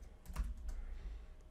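Keys on a computer keyboard are tapped in a quick, soft burst of a few clicks while a command is typed, close and quiet with no talking.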